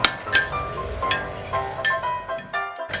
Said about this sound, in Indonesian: Dan kita aduk rata dulu, kocok lepas.